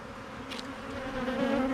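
Honeybees buzz steadily around a queen-rearing colony, a close, continuous drone that swells slightly louder toward the end, with no voices.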